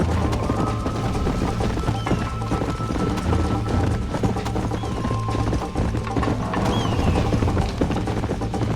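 Horse hooves clip-clopping in the Red Dead Redemption video game, a continuous trotting rhythm over dense ambient game sound and a low steady hum, with faint tonal whistles drifting through.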